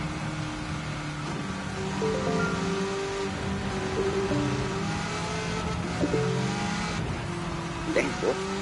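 A car engine accelerating hard in Gran Turismo 7, held in a high gear at very high speed, with a steady sustained drone and some louder swells, while a voice speaks over it.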